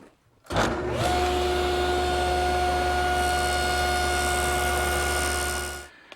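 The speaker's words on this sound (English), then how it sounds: "I'm cutting the moldings using the table saw and my miter gauge, which has this adjustable stop." A table saw spins up with a loud steady whine while cutting wood moldings against a miter gauge, holding an even hum for several seconds before winding down.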